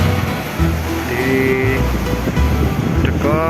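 Sea waves at the Tanggul Lama breakwater near Teleng Ria beach in Pacitan, a constant loud wash with heavy wind buffeting the microphone and a faint engine hum underneath.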